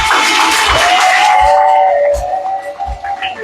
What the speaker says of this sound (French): donnez-lui l'applaudissement.